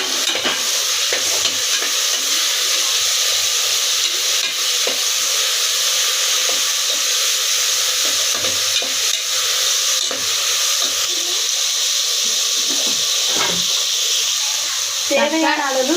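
Tomatoes frying in a pan for vegetable biryani, with a steady broadband sizzle and occasional stirring scrapes, close and fairly loud throughout with no talk.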